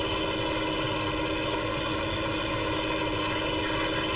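Ford TW35 tractor with its original rusted black exhaust, its engine running steadily and close by at an even, throbbing idle with no break, alone without talk.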